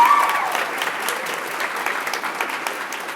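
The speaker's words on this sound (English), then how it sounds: "A round of applause, guys." Audience applause closing a student innovation summit panel on AI and journalism, a steady wash of clapping from a room of people that holds at an even level for about three seconds, with no one talking.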